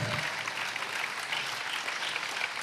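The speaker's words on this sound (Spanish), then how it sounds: "Dale un aplauso al Señor porque Él es bueno." Church congregation applauding in praise, a steady wash of many hands clapping at moderate distance, fading slightly at the end.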